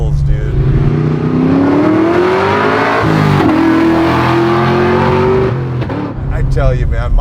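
A fully built, caged 1967 Chevrolet El Camino accelerates hard, its engine roaring loud and close with rising pitch through the revs, a brief dip at a shift, and voices talking over it.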